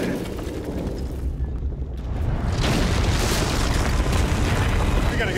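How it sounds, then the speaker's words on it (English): Grenade blast in the cinematic trailer for Indiana Jones and the Great Circle, a loud dense boom that swells into a sustained roaring rumble, with voices talking over it. "Ah, it's a grenade"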